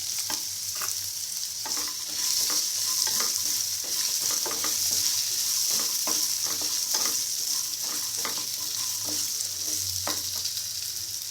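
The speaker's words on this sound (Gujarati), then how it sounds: "હવે એક નાનું બટાકો મેં આ રીતે કાપીને રાખ્યો છે એ ઉમેરીએ ફેરવી લઈશું" Diced potato sizzles steadily as it fries in a pan of oil for poha, with repeated scraping strokes of a stirring spoon against the pan.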